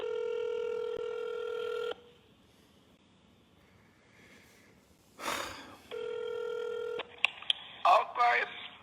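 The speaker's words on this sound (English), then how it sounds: "I got to make a phone call." Telephone dialing tones as a phone call is placed, with long steady tone bursts, a pause, then more tones and clicks, with a person talking in between.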